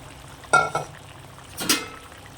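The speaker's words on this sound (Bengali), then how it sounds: "তো এবার আমি এর মধ্যে মাছগুলো দিয়ে দেব" Fish pieces go into a simmering bitter gourd fish curry, with two short splashing, clattering bursts over a quiet bubbling background.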